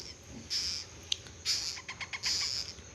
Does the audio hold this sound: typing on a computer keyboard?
no